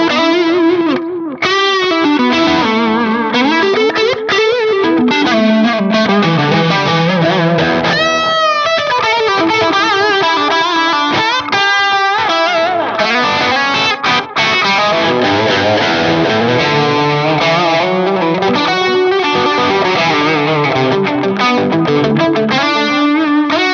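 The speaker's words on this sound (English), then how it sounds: "I really like the analog delay mode," Distorted electric guitar runs through a Boss DD-20 pedal in analog delay mode with the tone fully cut, so the played notes trail off into soft, darkened repeats. Saturated lines and chords play continuously for over twenty seconds, loud and close, with no talking.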